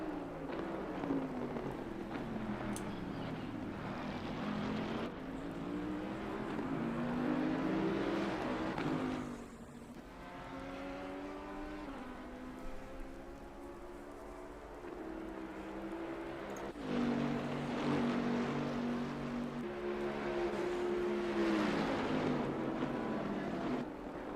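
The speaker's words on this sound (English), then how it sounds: "We're going to listen to the way some of these cars sound." Racing car engines roar and rise in pitch as cars, including a Bentley, accelerate and shift gears in a video game race at Misano, several passing in sustained waves, loud and continuous without talk.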